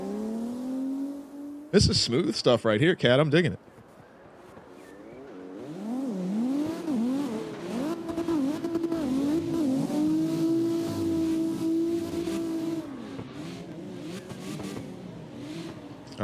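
Drift cars in an open practice session roll off the start line together, engines droning and revving under continuous commentary, with a brief burst of louder engine noise early on.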